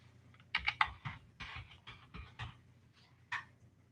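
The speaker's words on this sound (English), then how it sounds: "I got to type it in." Quick bursts of typing on a computer keyboard, a dozen or so close, crisp clicks in uneven clusters, alone in a quiet room.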